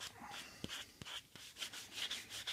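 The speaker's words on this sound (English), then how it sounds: "then you're going to hit it with your 220 and consecutively your finer and finer grits until you get that smooth finish" Kydex knife sheath being sanded by hand with 220 grit sandpaper, soft close rubbing strokes with a few sharp taps, quiet and steady with no talking.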